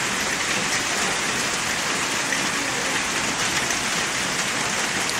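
Steady rain pours down at Otres, Cambodia, a dense, continuous hiss of drops hitting surfaces that stays close and even throughout, with no voices.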